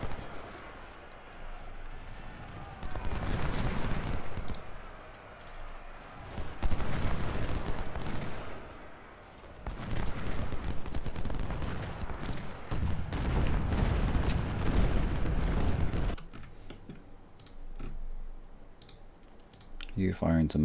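Musket volleys and artillery fire from a Civil War battle at South Mountain in Ultimate General Civil War rumble in long, dense waves, near and loud, with occasional clicks, while someone talks over it.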